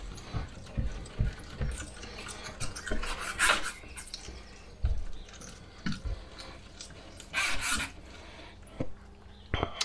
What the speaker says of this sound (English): I can see lots of little bits down here, which is coming off with this scraper